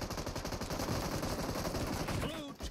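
PUBG gunfire rattles continuously in fast automatic bursts, quite loud and close, with voices talking faintly underneath before it briefly cuts off near the end.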